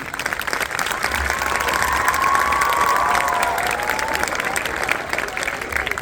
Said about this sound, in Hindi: आप सबकी तालियां इस बात पे गूंजे